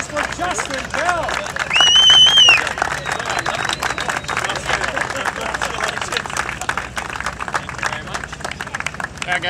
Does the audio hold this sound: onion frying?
no